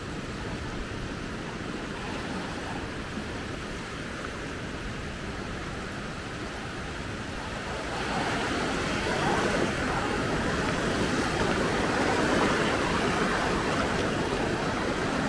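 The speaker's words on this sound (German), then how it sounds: "Wunderschöne Wellen wieder da." Ocean waves wash onto the beach at Maspalomas, Gran Canaria in a continuous, broad roar with wind noise, growing louder about halfway through.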